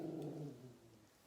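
A dog gives a low, brief growl, close and fairly soft, fading out after about a second with no talking.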